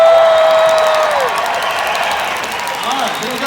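A convention audience applauds and cheers loudly from start to finish, with whoops and crowd voices mixed into the steady clapping.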